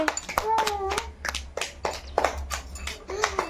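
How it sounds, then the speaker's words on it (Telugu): Hands clap in scattered bursts during a spoon game, with children's voices calling out over the uneven applause. "క్లాప్స్ క్లాప్స్ కొట్టండి."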